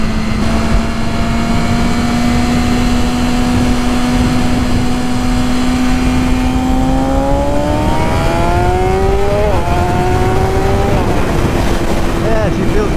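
A BMW S1000RR sport motorcycle with an unlocked ECU pulls hard through the gears on a ride, its engine note climbing steadily, dipping at shifts and rising again, loud and close over constant wind rush.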